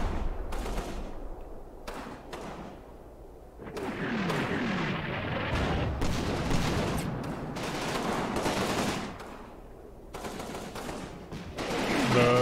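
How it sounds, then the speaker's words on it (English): German artillery and gunfire in the World War II video game Combat Mission Rome to Victory, with bursts of rattling fire and booming blasts in waves, loud and dense. "There goes more German arty."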